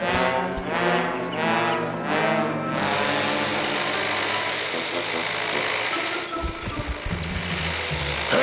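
A saw runs in a Boonie Bears cartoon. It whines fast and buzzing, with a pulsing rhythm at first, then settles into a steady high drone, and ends in a few rough sputters.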